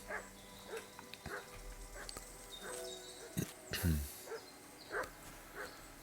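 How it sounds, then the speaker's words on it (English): A dog barks in scattered yips in a video game, over a quiet background with some clicks and a brief rumble, the barks medium-distant. "So 2 more to go, and Mutt is barking at something"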